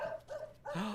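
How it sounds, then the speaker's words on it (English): A puppy in the video game Alan Wake 2 gives a few short, soft barks and yips, close by, with gaps between them. "Puppy!"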